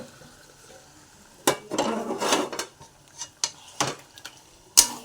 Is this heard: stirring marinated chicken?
yes